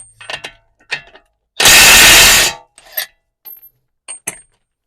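A power tool whirs in one loud, sustained burst of about a second, removing the 32mm front axle nut on a Cadillac XTS, with scattered clinks of tools and parts before and after.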